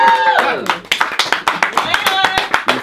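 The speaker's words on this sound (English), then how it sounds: "That clap needs to be louder, bro." Rhythmic hand claps, roughly a dozen sharp evenly spaced hits, ring out over and between a man's speech at a casual listening party.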